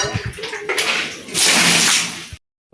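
Water is poured out for buffaloes to drink, rising to a loud, close gushing splash that runs for about a second before cutting off abruptly into silence.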